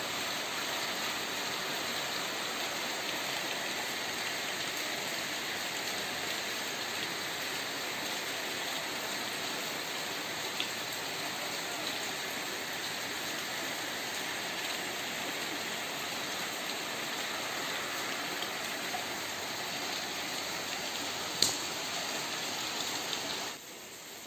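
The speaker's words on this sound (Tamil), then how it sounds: "வெளியில் நல்லா மழை பெஞ்சிட்ருக்கு." Heavy rain falls steadily outside on a rainy Sunday morning, a constant even hiss with no pauses, broken only by a single brief knock near the end.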